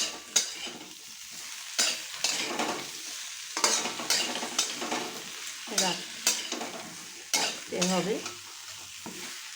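Fried bitter gourd and eggplant are stirred in a pan for Bengali shukto, giving repeated scraping strokes in uneven bursts over a low sizzle, with a few brief spoken words.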